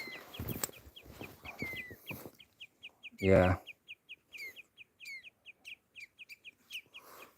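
Outdoors on a hike in Abisko, a bird repeats short, high chirping calls in a steady series, fairly near, with brief talk and a loud thump before it.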